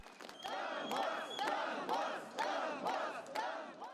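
A crowd of pro-Russian protesters marches to a bank's central office in Ukraine, chanting loudly in rhythmic unison with repeated shouted cries at a steady beat.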